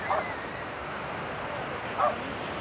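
Two short dog barks or yips ring out at a beach with steady surf washing underneath, one near the start and another about two seconds later, both fairly distinct over the continuous wave noise.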